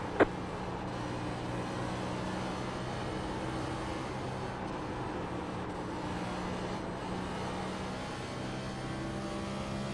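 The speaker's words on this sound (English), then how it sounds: "listen to the sound of the race cars going around the track" A steady roar of engines drones on continuously, like cars circling a track at a distance, with a brief click at the very start.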